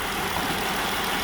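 A 2017 Jeep Wrangler's 3.6L engine idles with a cylinder 2 misfire from bad compression, a steady, fairly loud mechanical drone heard close up for about a second with no speech.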